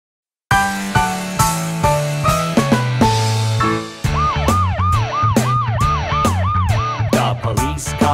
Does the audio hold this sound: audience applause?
no